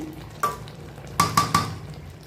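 Shrimp frying in a pan for chingri malai curry, stirred now and then: a steady low sizzle with three or four sharp scraping stir strokes, close and moderately loud, no voices.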